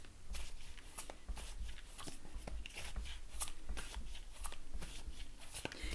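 Gilded Tarot Royale Edition tarot cards are shuffled by hand in a quiet room, a continuous soft riffling and sliding with repeated crisp flicks over six seconds, close and moderately quiet.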